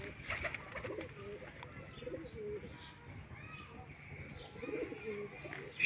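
Golden Daku breed pigeons and Kamagar hens cooing in a Lahore loft, soft repeated coos with scattered chirps throughout, moderately close over a low background hum.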